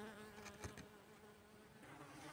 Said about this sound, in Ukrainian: Так, на мене напали оси.